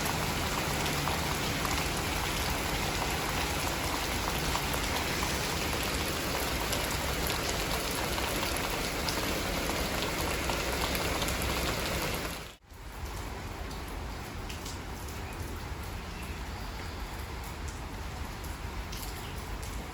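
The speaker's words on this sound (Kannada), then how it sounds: "ಇವಾಗ ಮಳೆ ನೋಡಿ, ಬೆಳಿಗ್ಗೆ ಸ್ಟಾರ್ಟ್ ಆಗಿದ್ದು, ಇನ್ನೂ ಈ ವಿಡಿಯೋ ಮಾಡುವಾಗಲೂ ಮಳೆ" Steady daytime rain that began in the morning falls as a dense, continuous patter. A sudden cut near the end leaves slightly softer rain.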